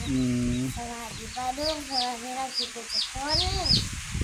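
Chickens cluck and murmur steadily nearby, with higher chirping calls from chicks or other birds mixed in over a noisy outdoor background.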